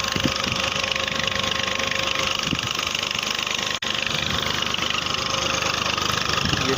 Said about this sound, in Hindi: ये ट्रैक्टर लगा हुआ है